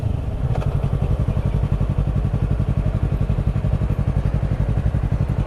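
Honda CBR600RR motorcycle engine while riding, a loud, steady, rapidly pulsing thrum that stays close and continuous throughout.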